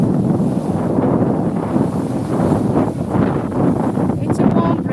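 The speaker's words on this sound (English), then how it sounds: "as the tides got higher and higher, it's got windier and windier" Wind gusts hard across a seaside promenade at rising tide, buffeting the microphone with a steady, loud rumbling roar and some faint rustling throughout.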